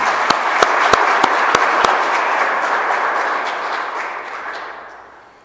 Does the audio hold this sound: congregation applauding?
yes